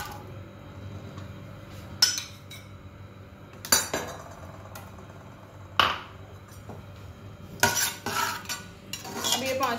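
Onions fry in half a cup of oil in a pan for chana pulao, with a quiet background hiss broken by several sharp clinks and scrapes of a utensil stirring against the pan.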